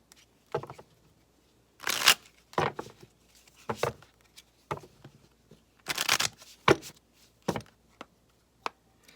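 Oracle cards being shuffled in several quick bursts of riffling, close and crisp, with short pauses between, no voices.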